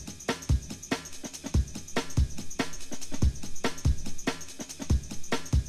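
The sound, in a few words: drum break added to another drum break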